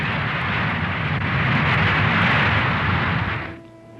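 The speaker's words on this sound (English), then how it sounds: "the B-52s taxi out and are soon on their way" Jet engines of B-52 bombers taxiing out on an airfield, a broad loud roar that swells steadily and then fades near the end, leaving a quieter whine.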